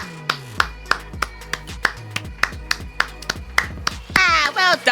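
A steady run of sharp single claps, about two per second, close and loud, after a sprint race in the game F1 Manager 2024, ending in a brief burst of squeaky chatter.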